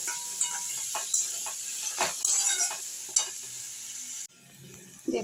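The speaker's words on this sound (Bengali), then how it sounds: "পেঁয়াজ আর রসুনটাকে একটু লাল করে আমি ভেজে নেব।" Onion and garlic fry in hot oil for a jackfruit seed curry, a steady bright sizzle broken by scraping stirs and clinks of a spatula against the pan, close and alone, ending with a brief drop in the hiss.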